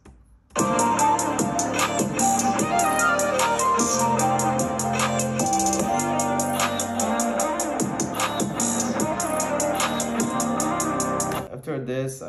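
Pitched-up vocals run through FL Studio distortion to mimic a guitar solo, loud and dense over a full trap-style beat with steady bass and drums, playing for about eleven seconds before cutting out.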